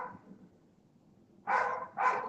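A dog gives two loud, close barks indoors in quick succession, after a short stretch of quiet room noise.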